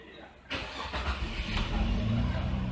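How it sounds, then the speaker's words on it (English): A Jeep engine with a fault causing high fuel consumption cranks and catches, then settles into a steady, fairly loud idle rumble, recorded close up. "As you can see, the engine is now running"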